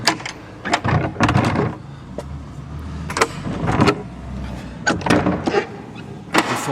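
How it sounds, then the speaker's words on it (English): An old church door, at a chapel dating from the 1700s, is shoved and forced with a string of loud, close knocks and thuds as wood strikes the frame, some rattling and scraping between them. "Struggle to get into a door"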